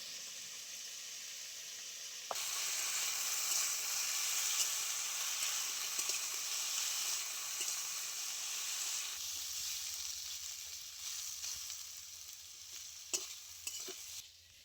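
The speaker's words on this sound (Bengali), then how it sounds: "আলুটা এদিকে ভাজা হতে হতে" Potatoes fry in oil with salt and turmeric in a pan, a close, bright crackling sizzle that swells suddenly and then settles, joined by a low hum and a few sharp clacks of stirring toward the end.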